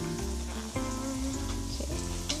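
Sliced chicken pieces hit a pan of sautéing onions and burst into a loud, close sizzle, with a couple of sharp clatters as they land, over a steady musical background.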